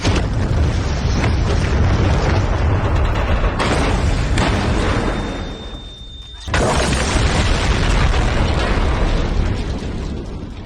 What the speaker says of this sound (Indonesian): bom-bom mulai meledak di berbagai lokasi